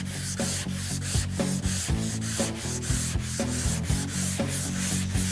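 A Wurth flex sander block is worked by hand in a steady back-and-forth rhythm. The close, scratchy rasping strokes repeat regularly, roughly two per second, with no voices.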